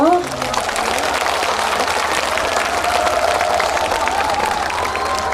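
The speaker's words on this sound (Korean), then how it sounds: "그렇게 주실 분들만 박수 한번 가볼까요?" A large outdoor crowd at a K-trot festival in Daegu applauds and cheers, a dense, sustained roar of clapping that fills the space without letting up.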